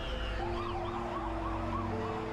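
Emergency vehicle sirens wail continuously during the evacuation of the World Trade Center towers, with rising and falling tones over a dense, steady rumble of traffic and city noise.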